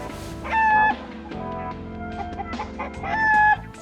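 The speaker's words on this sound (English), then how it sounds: "So the first thing we will need is a chicken." A chicken clucks and squawks in short bursts, with two sharper high-pitched calls among its steady nearby chatter, heard alone without any talking.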